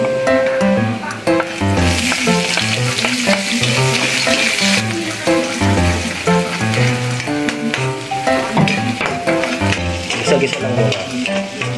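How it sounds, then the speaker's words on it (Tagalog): Tulingan (bullet tuna) dish sautéing in a pan, with a loud, steady sizzle and stirring throughout, a burst of brighter spatter early on, and tonal music-like sounds running underneath. "Gisa-gisa lang muna."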